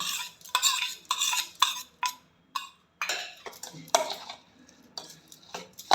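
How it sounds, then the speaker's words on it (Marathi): Amla pickle ingredients (Indian gooseberry with chilli powder, asafoetida and fried fenugreek seeds) being mixed together in a pot, giving a run of close, irregular clinks and scrapes of a spoon against the vessel, with no talk. "लोणचं सगळं एकत्र करते आहे"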